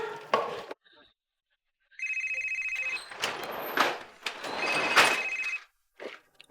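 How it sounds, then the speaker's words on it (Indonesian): A telephone rings in a house during a tense scene at a rice shop, two long electronic trilling bursts with a short gap between, fairly close, amid rustling and brief background noises. "Sekarang kamu telepon Bu Kartika ya"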